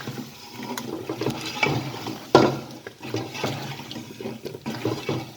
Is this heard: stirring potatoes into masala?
yes